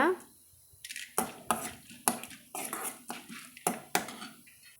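Dal fried and stirred in a pan for Tamil-style cabbage chutney, with repeated sharp metallic scrapes of a spoon against the pan over a soft sizzle, close and steady at a stirring rhythm.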